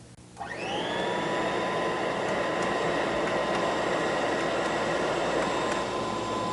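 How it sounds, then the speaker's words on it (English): A Kirby Heritage 2 vacuum cleaner motor spins up after a brief click and then runs at a steady, loud, even whine and roar with no voices. "There, a definite change in the sound of the motor."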